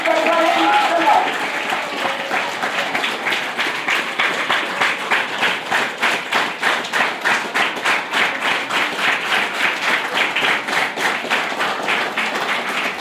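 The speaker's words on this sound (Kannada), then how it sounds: "ಪ್ರೀತಿಯ ಅಭಿಮಾನದ ಚಪ್ಪಾಳೆಗಳು" An audience applauds at a student award ceremony for an ideal student, with a brief voice at the start and then steady, rhythmic clapping that stays loud throughout.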